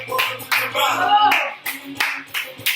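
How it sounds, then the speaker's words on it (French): A group of exercisers claps together after a Tabata cardio striking workout, the sharp claps coming in uneven bursts over a musical backing, with a voice talking over them. "Applaudissez-vous, ça motive"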